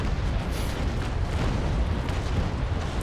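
A ship's cannon broadside in the Naval Action naval combat game, raking an enemy stern at full sail: dense continuous booming rumble, loud and sustained across the whole moment with no talk.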